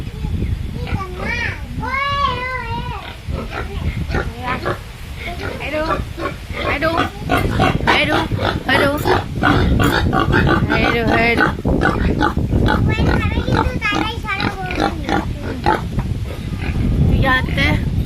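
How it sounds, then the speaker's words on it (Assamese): A pig grunts and squeals repeatedly, close by, while children talk and chatter excitedly over it. "এইটো এটা গাহৰি"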